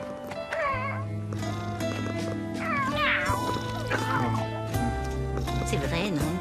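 A cat meows and caterwauls in a drawn-out, wavering cry over a steady backing tone, fairly loud and close, with several rising and falling calls in a row.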